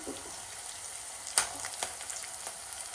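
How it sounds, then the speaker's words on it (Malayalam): Curry leaves crackle and sizzle as they fry in a pan, a steady close frying hiss broken by a few sharp pops, one louder snap standing out. "നമ്മുടെ വീട്ടിലെ കരിയാപ്പില ഇത്തിരി തീ കുറച്ചിടുന്നതാണ് പൊട്ടിത്തെറിക്കുന്നുണ്ട്"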